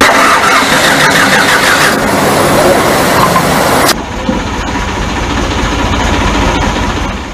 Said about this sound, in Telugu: అరే అవునంటే గిది ట్రాక్టర్ పిండి గిర్ని,